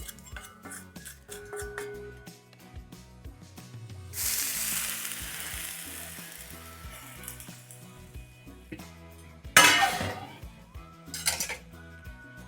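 Onions tipped into a hot pan for buttermilk bajji curry land with a burst of loud sizzling, followed by clinks of a utensil against the pan and a sharp splash-like crackle near the end; no one speaks.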